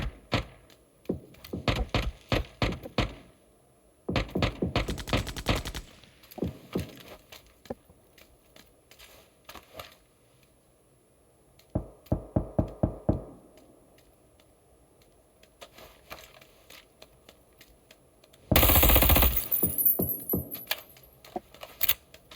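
Gunfire in a shooter game comes in several separate bursts of rapid, clicky shots with quiet gaps between them. A louder, denser volley arrives near the end.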